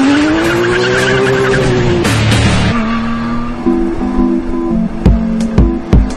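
A Porsche 911 GT3 driven fast: the engine revs in sustained tones while the tires squeal and skid, then sharp bursts and cracks sound near and loud toward the end.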